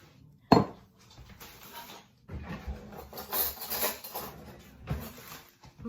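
Chopped, peeled and cored Bramley apple tipped into a pan, with a sharp thud at the start followed by scraping, rubbing and clattering against the pan for several seconds.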